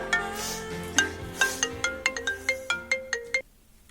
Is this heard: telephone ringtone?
yes